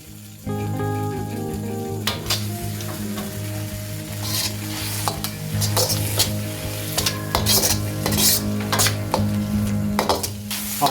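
Beef macaroni with dark sauce, soy sauce and tomato sauce stirred in a frying pan, a steady close sizzle under repeated scraping and clinking strokes of a utensil, with a low hum running throughout.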